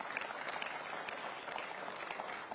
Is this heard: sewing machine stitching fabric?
no